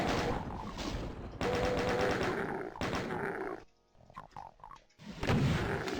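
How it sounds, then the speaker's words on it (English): Many enemies firing guns at once in DOOM, dense rapid bursts of gunfire that cut out briefly, leaving scattered shots and pops, then resume loudly. "Lots of enemies firing at once."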